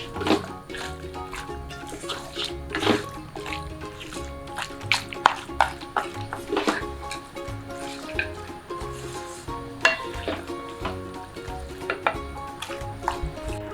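Pork curry ingredients with curry leaves and turmeric powder being stirred in a pan, wet scraping and squelching strokes with soft sizzling, close and steady with irregular clinks of the spoon.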